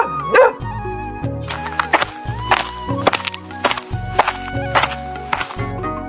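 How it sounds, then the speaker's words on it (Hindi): Several dogs bark at night in an animated village story, with repeated sharp barks over a backdrop of low musical tones and thumps, loud and close. "तेज हवा चल रही थी और कुत्ते बिना वजह भौंक रहे थे"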